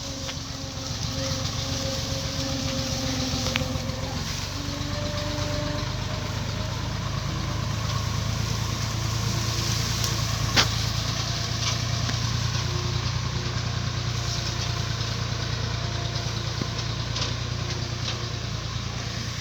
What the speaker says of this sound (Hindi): छोटी सी गली से गुजर रही है ट्रैक्टर।